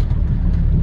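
A Cummins common rail diesel truck engine backs off the throttle, a steady low rumble holding close and fairly loud for under a second.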